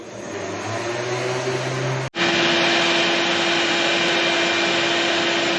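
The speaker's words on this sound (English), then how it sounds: "I've got the vacuum hooked up to it now." A vacuum hooked to a car gas tank during cleaning with POR 15 drones loudly and steadily, with a sudden brief cutout near the middle before the whine resumes at a higher, steadier pitch.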